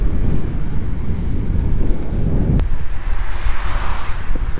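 Strong headwind buffets the microphone on a bike ride through the Netherlands south of Amsterdam, a loud continuous low roar of rushing air with gusty swells and no talking.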